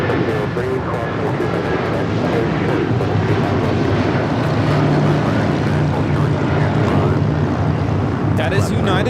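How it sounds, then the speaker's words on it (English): A United Airlines Boeing 757-300 takes off from LAX, giving a loud, sustained jet roar that holds steady throughout, with speech heard faintly alongside it. "That is United Airlines 1069 taking off to Chicago on the 757-300."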